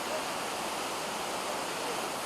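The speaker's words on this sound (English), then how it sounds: "The Iguazu Falls in the heart of South America. With over 275 waterfalls, there is nothing in the world quite like it." The roar of Iguazu Falls, a vast set of waterfalls in South America, comes as a dense, unbroken wash of rushing water, loud and steady from start to finish.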